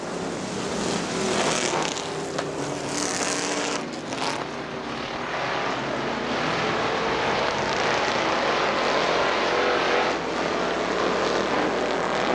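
Street stock cars racing at Butler Motor Speedway under green flag, a steady roaring drone of several engines, with a louder rush as cars sweep past, continuous and fairly loud, no talk.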